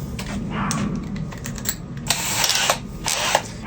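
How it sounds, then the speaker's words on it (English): A power drill running a dull drill bit during a smart doorbell camera installation, producing close bursts of whirring and grinding with irregular clicks and knocks, no talk. "This is one of the best drill bits,"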